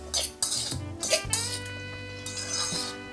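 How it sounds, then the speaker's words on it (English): A utensil scrapes and clinks against a bowl as tuna salad is stirred with lime juice, a few quick separate strokes close up, with no talking. "Now slice the lime and add the lime juice and give it a quick mix."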